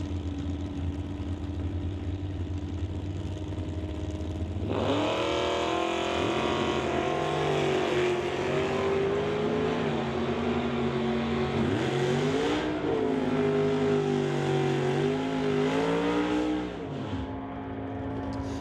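Pickup truck and Chevrolet drag racing at a Lordco DoorWarz event: loud engines rev and roar together for about twelve seconds with rising and falling pitch as the vehicles launch, after a lower idling rumble, then fade away.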